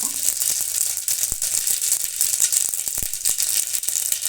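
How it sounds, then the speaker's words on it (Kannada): Mustard seeds splutter in hot oil in a pan while cooking a sprouted horse gram dish, a dense continuous crackling sizzle with scattered sharp pops, loud and close, with no talking. "ಇದಕ್ಕೆ ಎಣ್ಣೆ ಕಾದಿದೆ, ಸ್ವಲ್ಪ ಸಾಸಿವೆ ಹಾಕೋಣ"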